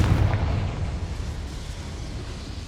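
The Confringo explosive spell going off in Hogwarts Legacy: a loud, deep blast at the start that fades into a low rumbling tail.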